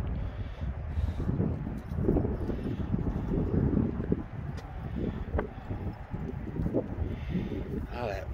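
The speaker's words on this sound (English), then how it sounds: "Wind." Steady, heavy wind with gusts around 40 miles per hour buffets the microphone with low rumbling gusts throughout, along with faint bits of other outdoor sound.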